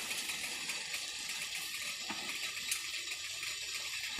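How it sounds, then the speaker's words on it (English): Salted water for spaghetti comes to a boil in a pot, giving a soft, steady hiss and faint bubbling throughout, with no talking. "you let your water boil"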